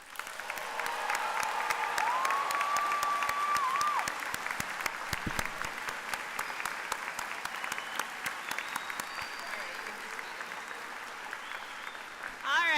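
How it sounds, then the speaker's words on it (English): Loud, sustained applause from a large crowd at a university commencement ceremony fills the space, steady throughout with a brief swell near the end; a few voices and cheers rise above it. "Let's just give one more big round of applause."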